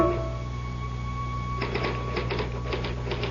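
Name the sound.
typewriter typing sound effect in radio drama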